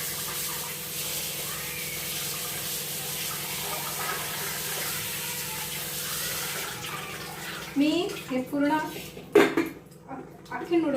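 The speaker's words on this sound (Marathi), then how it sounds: "थंड पाण्याने धुवून घ्या" Cold tap water runs steadily over boiled noodles for veg Chinese noodles, a continuous close rush of water in a kitchen, with a voice speaking near the end.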